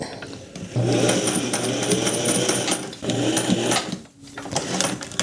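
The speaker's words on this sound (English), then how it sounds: "When you backstitch, you have to be so careful not to go beyond that dot spot." A sewing machine backstitching hexagon quilt pieces, with close rapid mechanical whirring in two bursts separated by brief pauses and a short stop before a final run, and faint talk in the background.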